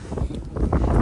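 Gusty wind buffeting the microphone with low rumbling roars that swell and fade in quick surges, outdoors on a cold day.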